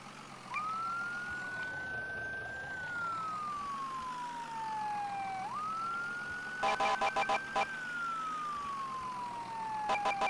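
An ambulance siren in the Roblox game wails in long rising and falling sweeps, then switches to a brief rapid yelp burst near the end. It is steady and prominent throughout.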